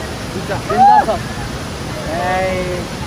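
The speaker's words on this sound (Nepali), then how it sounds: "यो झरना राम्रो छ है ब्रदर" Steady rushing of a waterfall in Sindhupalchowk, Nepal, heard close as a broad continuous roar, with someone talking over it.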